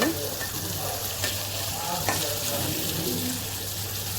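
Bitter gourd (uchhe) bhaji frying in a generous amount of oil gives a steady, close sizzle throughout, with a few soft stirring scrapes and a low hum underneath.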